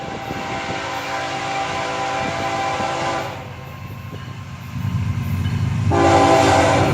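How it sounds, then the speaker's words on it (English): Two FEC freight trains meet and pass, loud and close throughout, with a steady horn tone held over the rumble and rail clatter, dipping briefly midway before swelling again with a renewed horn blast. "Now we got 2 trains."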